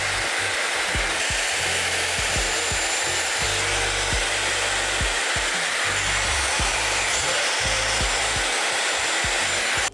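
A Dyson hair dryer with its brush attachment running on the highest heat gives a loud, continuous airy roar, with uneven low rubbing and brushing strokes through the hair throughout.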